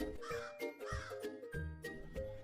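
Harsh crow caws repeat over a continuous background of music and low rumble, fairly loud and close.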